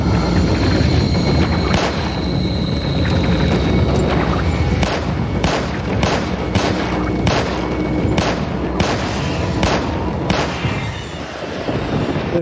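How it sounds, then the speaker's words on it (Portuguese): Rapid gunfire in the Resident Evil 4 remake, with a dense loud barrage of repeated shots and booms that fills the whole stretch, several sharper blasts standing out in the latter half. "Deu muito tiro"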